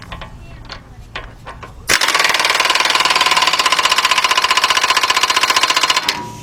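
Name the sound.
air gun tightening center axle nut on Honda Accord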